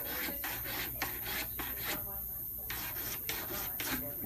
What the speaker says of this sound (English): then we use our file to take the excessive solder from there